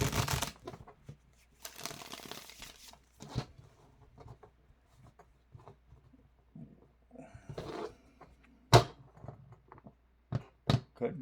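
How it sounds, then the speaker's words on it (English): Someone shuffles a deck of tarot cards in close, irregular bursts of riffling and soft slaps, separated by quiet gaps, with a few sharper snaps of cards. "when I'm done with all this shuffling"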